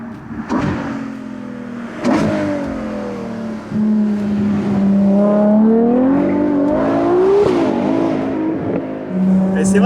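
A Ferrari Monza's 810 hp V12 engine revs and accelerates loudly up close, its pitch climbing and dipping through gear changes across a sustained run.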